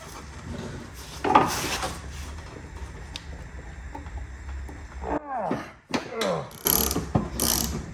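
Bolt extractor kit turned with a ratchet on a rounded, seized mower blade bolt under a John Deere L130 48-inch deck, giving steady clicking ratchet strokes close up, then a few sharper metallic clanks and scrapes near the end.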